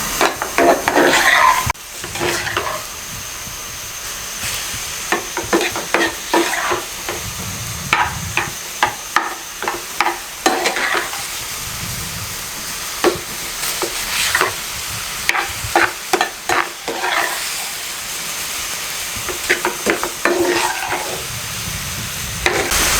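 Chicken cooks dry in a thick pan over a high flame, with a hissing sizzle broken by repeated close scraping strokes of a spatula stirring it, at a moderate pace and without talking.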